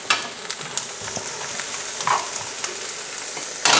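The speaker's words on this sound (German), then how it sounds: "So, das Ganze darf dann jetzt einmal schön anbraten." Pasta and vegetables fry in a pan with a steady, close sizzle and crackle, broken by a few louder bursts as the food is stirred.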